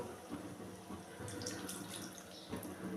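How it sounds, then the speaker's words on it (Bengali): Water is splashed by hand into a pan of katla fish and dried lote fish curry, a soft continuous watery patter and trickle close by, with light pan clatter throughout. "সেই সাথে আমি একটুখানি জল এটার মধ্যে হাত দিয়ে ছিটিয়ে দেব"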